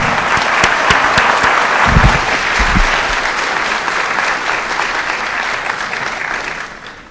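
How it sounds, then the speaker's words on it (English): Sustained applause from an audience at an IT modernization all-hands meeting, a dense steady clatter of many hands clapping at fairly close range that holds strong for about seven seconds before starting to fade at the end. "I'd like to give them a round of applause"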